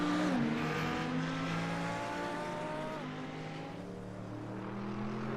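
A GT3 race car at Daytona International Speedway in a racing game drones steadily with a rising, then shifting engine pitch as it rolls by, gear changes audible as stepped drops in tone, moderately quiet.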